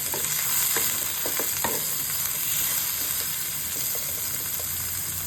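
Okra (ladies finger) seasoned with turmeric fries in a pan, giving a steady, close sizzle with scraping stirs and light clicks throughout.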